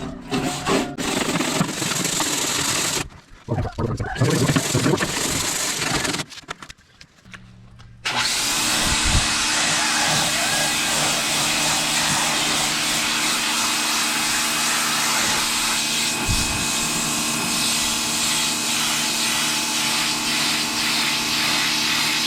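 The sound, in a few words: pressure washer running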